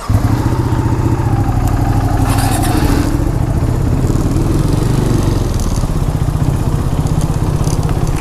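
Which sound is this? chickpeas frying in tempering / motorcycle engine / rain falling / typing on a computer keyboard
motorcycle engine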